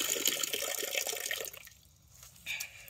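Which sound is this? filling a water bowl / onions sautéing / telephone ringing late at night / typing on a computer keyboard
filling a water bowl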